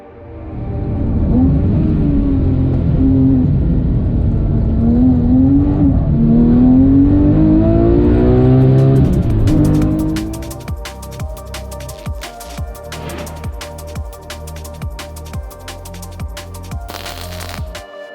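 Porsche 997 GT3 on a race track, its engine revving up and down in a loud, sustained wail for about ten seconds before dropping to a quieter, rattly rumble with clicks and knocks.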